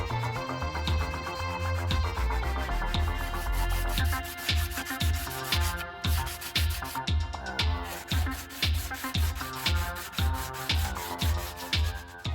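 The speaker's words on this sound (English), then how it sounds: "I started bright and early to sand the surface that mates with this hatch" Sandpaper rubs in quick, even strokes over a sailboat's hatch mating surface, a close, rhythmic rasping that runs steadily without a voice.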